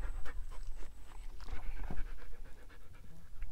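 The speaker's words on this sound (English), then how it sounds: "You can hear my dog panting up a storm behind me" A dog pants rapidly and heavily close by, a steady rhythmic huffing with small shuffling noises, no talking.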